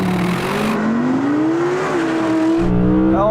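Audi RS6 GT and R8 GT drag race launch: a loud engine revs and climbs steadily in pitch through the gears, with a brief hint of wheel spin near the start.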